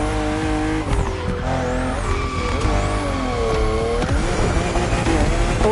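BMW M2 and M4 cars racing in The Crew Motorfest on a narrow, twisting road, engines revving and shifting pitch while tires squeal through sharp bends, loud and continuous.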